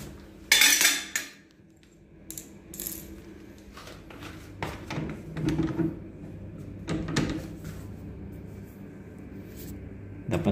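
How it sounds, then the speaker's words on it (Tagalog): A door handle being taken off a broken door lock with the screws already removed, a loud metallic clatter at the start followed by scattered clinks, rattles and knocks of metal parts, no talking. "Ayan, tanggal muna natin yung handle."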